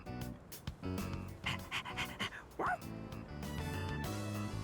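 A stray dog in Persona 3 Reload pants rapidly and yips softly over a game music track, breathy panting bursts clustered in the middle, close and clear.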